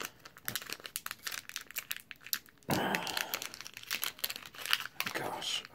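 Pokemon booster pack wrappers, including Sun and Moon Crimson Invasion packs, are torn open with close, busy crinkling. A sharper ripping and rustling section follows midway, and a voice can be heard talking.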